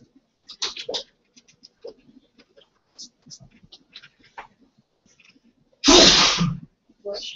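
One sudden, loud sneeze erupts near the microphone during an online chart-making class session, surrounded by faint clicks, scratches and quiet movement noises.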